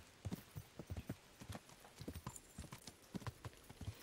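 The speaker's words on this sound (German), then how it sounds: "dann werde ich mal nach Timebreak reiten" Horse hooves clip-clop in a steady, rhythmic gait while riding in the medieval game Kingdom Come Deliverance, with close, distinct beats continuing throughout.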